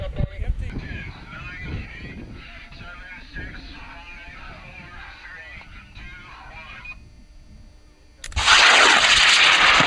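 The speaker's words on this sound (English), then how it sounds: "The name of my rocket is Soulfly. It's going on J570." A high-power model rocket launches on a J570 motor at a rocketry event. A loud, sustained roaring burst comes in near the end, after a stretch of quieter background sound.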